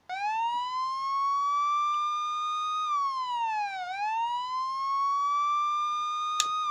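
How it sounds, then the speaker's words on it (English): Police siren car horn in the Forza Horizon 5 racing game, a steady electronic wail that holds its pitch, dips and rises again, playing alone and loud throughout. "the police car, or police siren car horn I should say"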